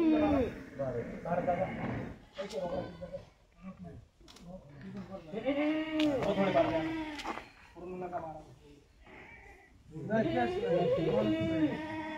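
Kathiyawadi goats bleat repeatedly in wavering, nasal calls, some overlapping, mixed with people talking nearby throughout.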